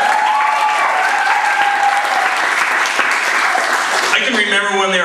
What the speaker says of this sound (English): you can go ahead and clap for that